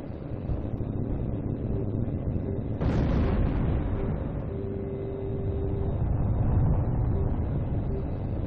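A target explodes in the jet combat game Tom Clancy's H.A.W.X. 2: a sharp blast bursts out partway through over a steady roar of jet engine and wind, then fades back into the drone; no speech.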